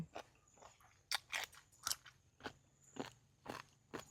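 Dried giant jellyfish, crisp and large, crunched between the teeth while being eaten with seafood dipping sauce, giving a series of sharp close crunches and crackles spaced through a quiet moment with no talking.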